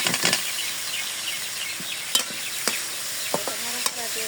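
Sliced bitter gourd sizzles in hot oil in a pan while a spatula stirs and scrapes it, with a steady close crackle and several sharp clinks of the utensil.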